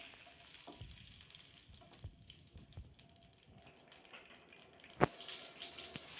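Red chillies for a tempering sizzle quietly in hot oil in a pan while cooking Chennai-style tomato bath, a soft continuous crackle with scattered pops and one sharp clatter near the end.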